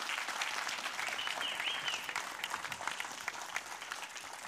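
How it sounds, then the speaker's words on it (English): Church congregation clapping in a dense, steady round of applause that fades a little toward the end, with a brief whistle partway through. "So could you applaud this wonderful ministry here?"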